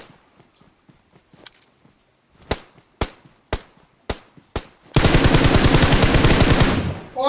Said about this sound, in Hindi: मैं कोशिश करूंगा कि भाई ज्यादा से ज्यादा फायरिंग देते हुए जाऊं।